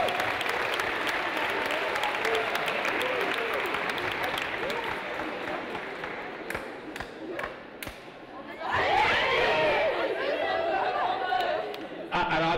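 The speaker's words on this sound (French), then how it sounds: "on peut les applaudir, bravo." An audience at an aeronautics awards ceremony applauds and cheers, clapping steady at first, dipping briefly, then surging again with shouts and chatter mixed in.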